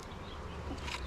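Honeybees from a package colony hum in a steady, close buzz around frames at an open hive, with a faint louder swell near the end.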